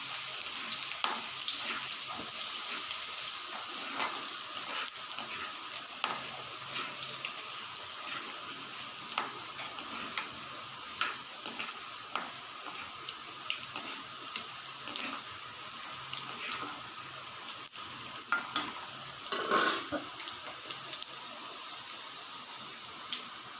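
Mustard seeds, chana dal, garlic and a pinch of asafoetida roast in hot oil in a pan, giving a continuous moderate sizzle with scattered crackles and pops and occasional stirring clicks throughout.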